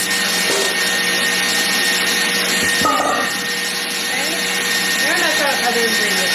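Electric mixer whisking heavy cream for a rich chocolate mousse, a steady continuous whirring drone that runs the whole time with faint voice-like sounds over it.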